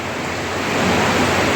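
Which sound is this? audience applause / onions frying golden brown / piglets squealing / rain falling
rain falling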